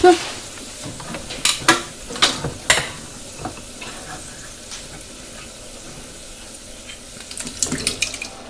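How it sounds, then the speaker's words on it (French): Canned peeled tomatoes tipped into a pan of frying onion and garlic, giving a wet splattering plop and sizzle followed by scattered stirring clatters and soft bubbling, near and moderately loud. "Et je vais rajouter une boîte de tomates pelées dedans."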